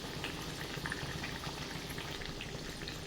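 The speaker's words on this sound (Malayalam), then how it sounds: "ഇനി ലോ ഫ്ലെയിമിൽ ഇത് ഫ്രൈ ചെയ്തെടുക്കാം" Rice flake (avil) vadas fry in oil over a low flame, giving a steady, dense sizzle and crackle that holds evenly throughout with no voices.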